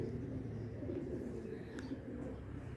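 Soft, low racing pigeon cooing in a quiet setting during a pigeon race, faint and somewhat distant, with a brief higher chirp partway through.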